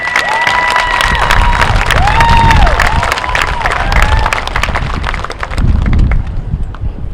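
A large graduation crowd at a Kente stole ceremony bursts into loud applause mixed with cheers, whoops and whistles, sustained throughout and fairly close.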